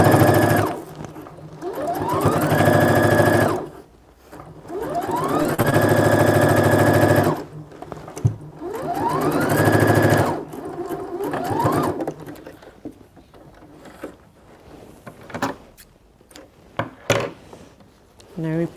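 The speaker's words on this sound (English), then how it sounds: "So once you start sewing, you backstitch because you want it to be tight and you don't want the stitches to pull out." A sewing machine stitches fabric with backstitching, loud whirring runs that rise in pitch as it speeds up, broken by short pauses and clicks, with a voice talking in between.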